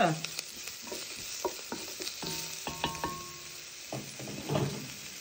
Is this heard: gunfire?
no